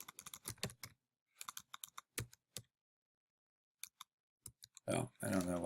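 Bursts of quick keyboard key clicks, typed in short irregular runs separated by pauses, close by and moderately loud, ending with a louder rustling noise.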